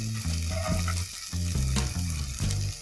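Spring onion, French beans, carrot and mushroom frying for hot and sour chicken soup crackle loudly in the pan, broken by stirring strokes and low scraping, close up with no voices.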